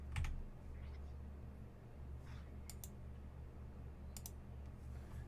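Scattered computer keyboard presses while working in music notation software: a few sharp clicks, faint and spaced seconds apart, over a low steady room hum with no speech.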